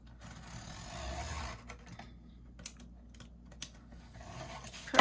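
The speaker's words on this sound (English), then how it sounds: "I just need to cut." Hand cutting of material, likely paper or card being snipped with scissors during a craft project, heard as soft irregular scraping and clicking strokes, close and fairly quiet, with a brief sharper burst near the end and no talking.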